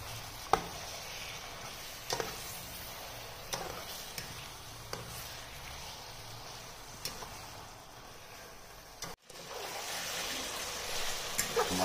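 One kilo of chicken fries in spices in a pot, giving a soft steady sizzle broken by occasional sharp ticks and scrapes of stirring, faint and close throughout.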